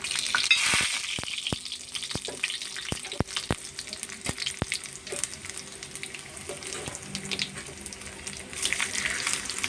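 Onions, dry red chillies, curry leaves and cumin crackle and sizzle in hot oil for a Telugu-style tempering, with a steady frying hiss and sharp pops and sputters scattered throughout, close up with no talking.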